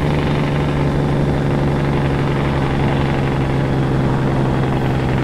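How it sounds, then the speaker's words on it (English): A heavy truck's engine drones in American Truck Simulator during a cattle haul to Redding, a loud, steady low rumble with a constant engine-brake hum, unbroken for the whole stretch and with no voices. "I like that outside engine brake"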